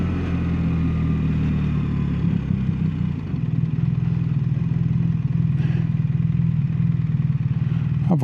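A BMW R1300RT motorcycle rolls slowly through a narrow street, its engine a steady low rumble close by that briefly chatters and shifts before settling into an even idle-like thrum, with a faint clatter near the end.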